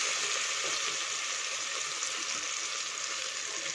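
Tomatoes with coriander fry for a Nethili fish curry, making a dense, even sizzle that holds steady and close throughout.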